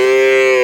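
A Limousin cow at a cattle market gives one loud, close, sustained moo that is steady in pitch and drops at the end.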